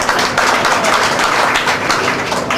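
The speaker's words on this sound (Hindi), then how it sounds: "तालियां बजाओ।" A seated audience at an award event claps together, a dense, lively patter of hands at close range that stays fairly even from start to finish.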